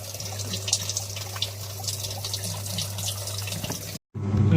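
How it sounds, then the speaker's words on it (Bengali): A Haier top-load washing machine takes in water at a fast rate, a steady rushing flow with a low hum, which cuts out briefly near the end before resuming. "আওয়াজ শুনতেই পাচ্ছেন, আওয়াজ স্পিডে জলটা নিচ্ছে"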